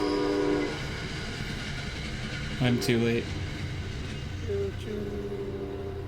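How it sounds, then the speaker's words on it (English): The Candy Lane train pulling away, with short horn blasts and tonal whistle notes over a rumbling rail bed, while someone talks over it. "Oh no, that's the Candy Lane train!"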